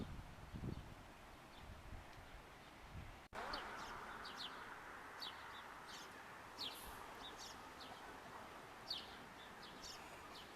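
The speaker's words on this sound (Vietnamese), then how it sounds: "Chim sẻ." Sparrows chirping outdoors around a house garden on a windy day, short high chirps scattered over steady wind and rustle, fairly distant and faint.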